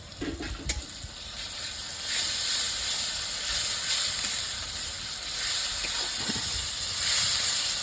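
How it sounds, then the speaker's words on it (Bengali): Garlic and ginger paste frying in oil for a chicken roll filling, a steady close hiss and sizzle with a few soft knocks of stirring, no talking. "এখন আমি দিয়ে দেবো এর মধ্যে রসুন বাটা দেব আদা বাটা দুটো একটু ভালো করে ভেজে নিই"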